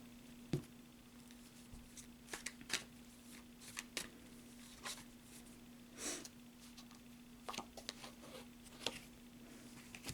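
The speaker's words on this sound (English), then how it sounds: "One more shuffle." Tarot cards are shuffled by hand in soft, irregular riffles and flicks, close and quiet, over a faint steady electrical hum.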